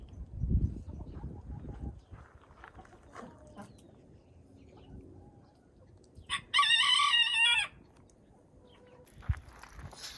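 Backyard poultry kept in a garden: a rooster crows loudly once, a long strained call near the middle, with soft scattered clucks and rustling around it and brief outdoor noise before and after.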